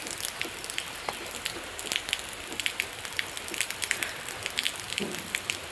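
Steady rain that has been falling since morning patters on a surface, with scattered drips and light crackling taps at a fairly faint level.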